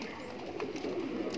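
Several Allahabadi Khaure pigeons coo softly inside a loft with roughly fourteen or fifteen birds, giving a continuous low murmur with soft overlapping calls and no voices.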